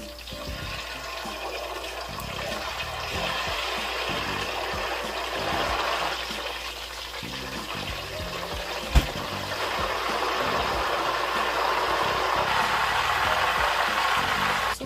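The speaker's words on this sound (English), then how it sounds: "So as this is frying, we're gonna go ahead and put our salt water. Do not be afraid, it's just gonna make a little bit of noise." Salt water poured into hot oil frying plantain chips, a sustained loud hissing sizzle that churns steadily, with one brief sharp knock partway through and no talking.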